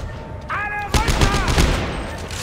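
Gunfire from the video game Dead Space 3, a burst of rapid shots with booming impacts over game effects, layered with a player's voice talking.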